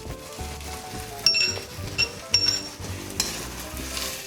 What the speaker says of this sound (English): keep the heat on high and stir fry the vegetables along with the tomatoes